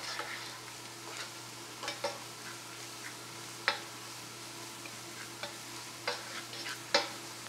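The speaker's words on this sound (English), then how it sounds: "Let it cook in that oil with the onion" Spices frying in oil with onion for mutton biryani give a steady, close, soft sizzle, broken by occasional light ticks and scrapes of stirring in the pan.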